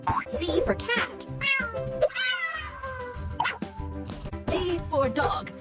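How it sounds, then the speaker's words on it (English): A cartoonish cat meows several times, bright and close, mixed into a children's alphabet song with music and a singing voice; a dog-like bark may also be heard. "C for cat."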